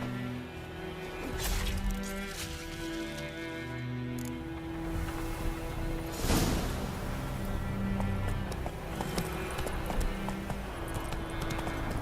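Horse hooves clip-clop steadily in The Witcher 3: Wild Hunt, a continuous rhythmic trot at moderate distance over a layered game soundtrack and ambience, with a sharper impact near the middle.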